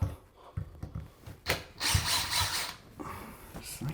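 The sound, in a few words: removing a shower handle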